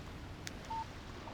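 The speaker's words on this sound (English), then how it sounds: "Text message from Barry." A short electronic beep sounds once as a text message notification arrives on a phone in the Alan Wake video game, faint against a quiet background hiss.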